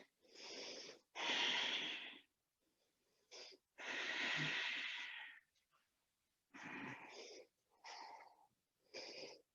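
Breathing during a yoga session comes in several long, close, airy in-and-out breaths separated by brief pauses, soft and unaccompanied by speech.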